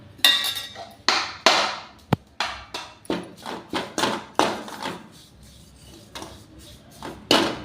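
Curry leaves dry roasting in an empty iron kadai without oil give a series of sharp knocks and rattling scrapes, irregular and close, with quiet gaps between them.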